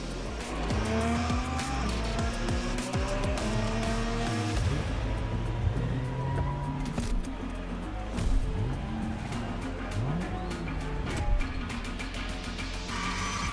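Racing cars roar continuously in The Crew Motorfest video game during street-driving and gymkhana-style play, with engines revving and shifting and repeated tire squeals and skids cutting through at close range.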